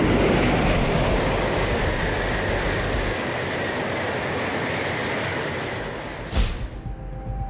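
A Shinkansen high-speed train rounds a curve at nearly 300 km/h, giving a steady, loud broadband rumble and rush of wheels on rail with a thin high whine, easing slightly before a brief sharp burst near the end.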